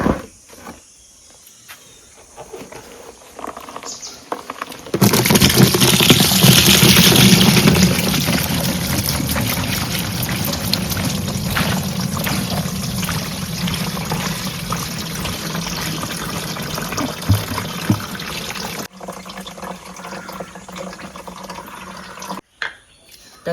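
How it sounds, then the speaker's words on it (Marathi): Soaked kokum rinds and their juice pour into a basket, making a steady, loud splashing and trickling liquid rush for about fourteen seconds before it cuts off into quieter background. "चला तर आता ह्या टोपलीत ओतून घेऊया ही सोला."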